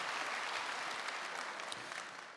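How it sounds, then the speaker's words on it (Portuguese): A live audience claps in dense, continuous applause, a steady wash of many hands at fairly close range with no voices over it, easing slightly toward the end. "Eu acho que merece um aplauso isto."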